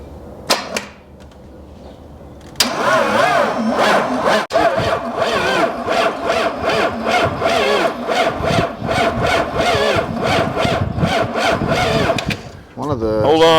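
A hot-wired 1993 Dodge Ram Cummins diesel, abandoned for 18 years, cranks over in loud, rapid, rhythmic starter pulses that run for several seconds after a few short bursts. Voices talk nearby.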